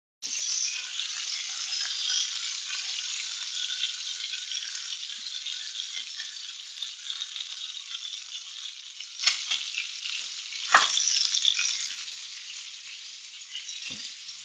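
Homemade fish fingers frying in a pan, a steady close sizzle throughout with a few sharper crackles and scraping clinks near the end.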